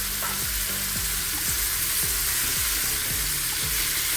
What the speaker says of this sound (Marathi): तुपामध्ये आपण हा आधी परतून घ्यायचा आहे.